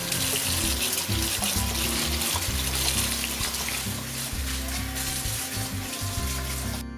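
Tap water runs steadily into a kitchen sink while freshly foraged ramps are rinsed clean, a loud, continuous splashing that never breaks and has no talk over it.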